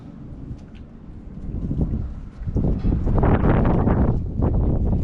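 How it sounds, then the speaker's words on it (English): Wind gusts roaring across a microphone outdoors beside an Altec truck during pump work, building from a steady rumble into loud, buffeting blasts that dominate the second half. "that wind's getting right in my face"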